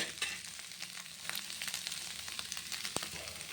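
Podimas frying on a dosa tawa, a soft, steady sizzle with faint crackles and a few light stirring taps, quiet and close with no talking.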